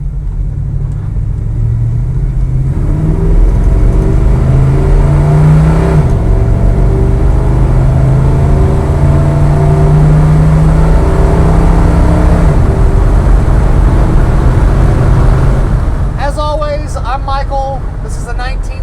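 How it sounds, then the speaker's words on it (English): A factory black 1972 Chevrolet C10 short-bed pickup with a 350 engine and automatic transmission drives along, its low, steady engine drone rumbling continuously up close, with a brief rise in higher-pitched noise near the end. "This is a 1972 Chevrolet C10 factory short bed, factory black, 350 automatic cold AC"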